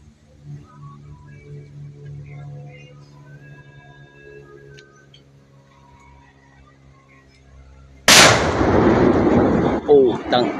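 A Tuna 60 gram firecracker with white fuse bursts with one sharp, very loud bang after a long quiet stretch of fuse burning, followed by a ringing, crackling tail.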